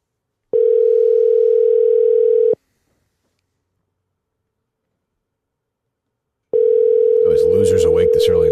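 A steady electronic ring tone sounds for about two seconds, then silence, then the tone returns and is joined by a voice.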